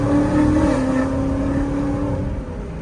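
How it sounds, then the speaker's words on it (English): A 2018 Ford Mustang GT Premium coupe's engine drones loudly from inside the cabin while driving, the pitch sliding as it downshifts and revs, a continuous close rumble with no talk. "Listen to those downshifts. Downshifts are so nice."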